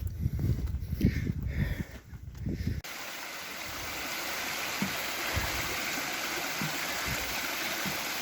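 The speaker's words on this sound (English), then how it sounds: "A little bit of waterfall" A small waterfall feeding a stream on a wooded state park trail, heard as a steady broadband rush of water; the first few seconds are louder and more uneven, with a continuous even wash after that.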